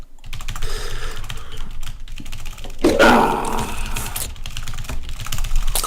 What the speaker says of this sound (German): Das hört mir jetzt voll in der Aufnahme wie Tastatur-Smash.